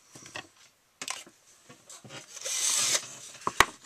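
A power drill whirs in short bursts, then runs steadily for about half a second as it bores through a bicycle camera mount, with handling clicks and knocks around it.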